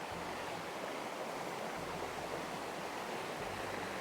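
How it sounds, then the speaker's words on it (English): Constant rushing of a small forest stream flowing nearby in Khao Sok National Park, Thailand, a steady even wash of water with no other sounds. "A nice little stream."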